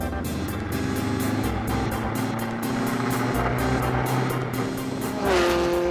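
A Formula MRF race car drives at speed, its engine droning loudly and steadily from onboard, then climbing sharply in pitch near the end as it revs up.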